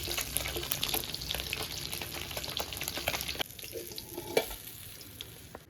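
Pieces of rohu fish sizzle steadily in hot oil in a pan, a dense broadband crackle that drops to a quieter fizz partway through with a few small clinks near the end.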